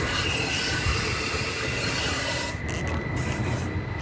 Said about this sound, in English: I'm gonna hose this inside this frame to cover any bare metal that needs coated inside of there